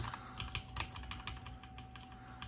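Fingers type on an old, dirty computer keyboard with scratchy-feeling switches, producing a quick run of soft, close clicks and taps, fairly quiet and irregular in rhythm.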